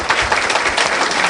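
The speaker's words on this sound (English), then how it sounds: "If we could all give a huge round of applause for our panelists." Brief burst of loud audience applause for panelists at a YPN Top Producer panel, dense steady clapping from a crowd with no break.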